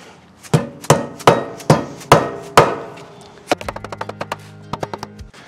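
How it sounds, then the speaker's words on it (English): Six heavy, evenly spaced dead blow hammer blows on an aluminum Jeep JL Wrangler suspension part during ball joint installation, then a quicker run of lighter, sharper taps, all close and loud. "I'm using a dead blow hammer here in the middle because it's aluminum"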